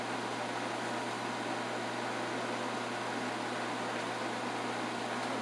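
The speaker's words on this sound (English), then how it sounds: "Sorry about the fan" A kitchen fan runs steadily in a home kitchen during cooking, a constant broadband whoosh with a low hum underneath, unchanging and alone without talk.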